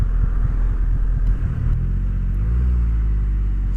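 Triumph Rocket 3R motorcycle engine climbing a steep narrow country lane at low speed, a loud, steady close rumble with a slight rise in pitch and no talking.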